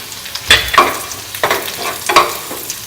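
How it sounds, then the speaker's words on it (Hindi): Spices such as amchur, coriander and garam masala are roasted in a pan for Navratri black chickpeas, with repeated spatula scrapes and stirs over a steady close sizzle and no talking. "मसालों को अच्छे से भून लेंगे।"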